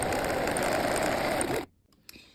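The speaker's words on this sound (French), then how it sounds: "je vais faire une première surpiqûre à 1 cm par rapport au pli" A sewing machine topstitches fabric 1 cm from the fold with a lengthened stitch while sewing a wrap skirt, running steadily and close for about a second and a half, then stopping abruptly, followed by a few faint handling clicks.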